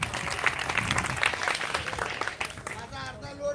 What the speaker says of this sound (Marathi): म्हणून आता एकदा टाळ्या वाजवा.